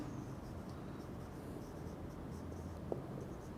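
Chalk or marker scratching across a board during a chemistry lecture, soft and faint beneath a steady hiss of room noise, with no talking.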